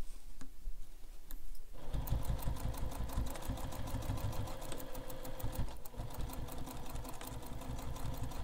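A sewing machine stitches a carryall bag, its needle chattering in fast regular bursts after a quiet start, pausing briefly before running again, close and alone.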